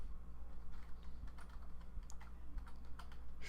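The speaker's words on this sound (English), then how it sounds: "I'm typing with one hand." Someone types with one hand on a computer keyboard, a quiet, uneven patter of soft key clicks over a low steady hum.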